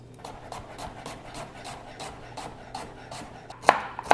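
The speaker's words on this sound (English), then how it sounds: "I'm going to chop those in very thin slices." A red onion being chopped into very thin slices, heard as a steady run of soft, close knife taps with two sharper, louder chops near the end; no one speaks.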